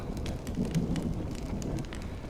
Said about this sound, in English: You're lucky to have found shelter from the rain.